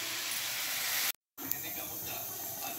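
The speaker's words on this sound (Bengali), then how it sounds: "এখানে চিকেনটা ভাজা চলছে" Chicken pieces fry in hot oil in a home kitchen, giving a steady bright sizzling hiss that drops out completely for a moment midway, then resumes.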